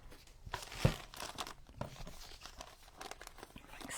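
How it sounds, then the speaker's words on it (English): Scissors snip and crinkle through a paper bag while making a junk journal pocket, a few close, dry crunching cuts with one sharper snip, quiet and alone. "I'll just use the scissors."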